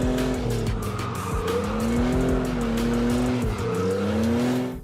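A car skids after a handbrake pull, tires squealing in a long, loud, wavering screech over a steady engine roar, lasting nearly five seconds without any talk.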